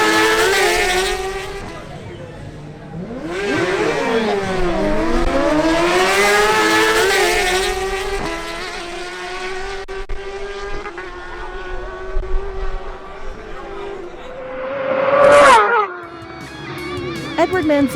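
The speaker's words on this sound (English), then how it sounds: "Now the Suzuki GSX-R1000 of Edward Manzano faces off against the Suzuki GSX-R1000 of Luis Requena" Two Suzuki GSX-R1000 motorcycles drag racing, engines screaming loudly and sweeping up and down in pitch through gear changes, then a sharper burst near the end as the bikes pass.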